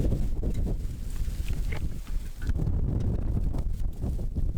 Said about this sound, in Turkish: Bayağı da rüzgar var